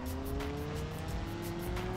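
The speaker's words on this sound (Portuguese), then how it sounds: "tá bugando até o som do motor" Simulated car engine in BeamNG.drive multiplayer driving along a highway, a steady continuous drone with rising tonal whine, loud and alone throughout.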